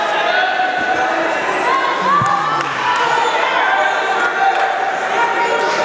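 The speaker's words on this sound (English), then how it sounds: "you can probably hear the crowd behind us." A crowd at a college wrestling match between Navy and George Mason cheers and murmurs loudly and steadily throughout, with a commentator's voice running over the arena noise.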